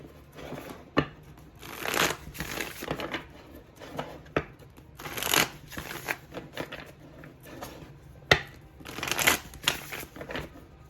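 Tarot cards being shuffled by hand in repeated riffling bursts, close and fairly loud, with brief pauses between rounds and no speech.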